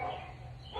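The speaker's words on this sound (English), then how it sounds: "Now she's barking." A dog barking outdoors, one short muffled bark at the start and another at the end, faint and somewhat distant, with no talk over it.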